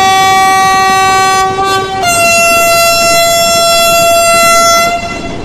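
A train in Trainz Simulator on a Visakhapatnam route sounds a loud, sustained horn that holds one chord, shifts to a slightly different pitch about two seconds in and keeps blaring over the rumble of the train.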